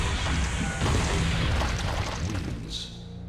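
Cannon fire from Raptor in a Mortal Kombat Armageddon mod, heard as a loud, dense, continuous booming blast with heavy low rumble and crashing noise lasting throughout, with a brighter burst near the end.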